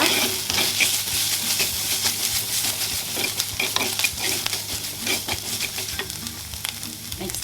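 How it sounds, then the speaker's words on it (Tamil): Ginger garlic paste sautés in a pan for a quail egg curry, giving a continuous close sizzle with frequent spatula scrapes and light clinks of the utensil throughout. No one speaks. "இந்த இஞ்சி பூண்டு பேஸ்ட்டோட பச்சை ஸ்மெல் கொஞ்சம் போகணும் அது வரைக்கும் லைட்டாக வதக்கிக்கோங்க"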